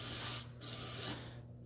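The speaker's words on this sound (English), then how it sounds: "So anywhere there's an access hole, I'll give it a good spray." Fluid Film rust inhibitor sprayed into a truck's box frame through an access hole, two close aerosol hissing bursts with a short gap between them.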